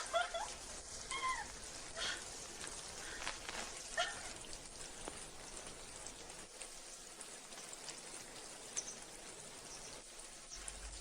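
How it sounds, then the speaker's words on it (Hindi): Steady rain falls in a dense, hissing patter close by, with a few cat-like meows over the first seconds and the downpour continuing alone afterward. "अरे कितनी अच्छी बारिश है"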